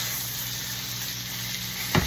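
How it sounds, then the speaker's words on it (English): A thick ribeye steak sears in a hot pan with a steady, close sizzle that holds even throughout, ending in a short clatter or knock near the end. "I'm going to sear it a little longer than what I typically would"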